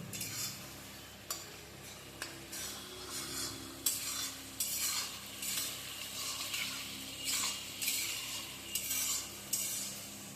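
Tomato masala for a rohu fish curry fries in hot oil, with a continuous sizzle broken by repeated scraping stirs of a spatula against the pan, close and fairly loud, with no talking.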